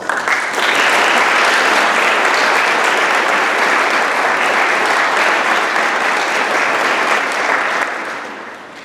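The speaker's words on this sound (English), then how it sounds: "give thanks for their support with a round of applause" Sustained audience applause fills an evening white coat ceremony for a dietetic internship, a dense steady wash of many hands clapping that holds strongly for about eight seconds before tapering off.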